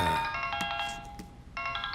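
A mobile phone ringtone sounds loud and close, a bright repeating melodic tone that breaks briefly and then starts again.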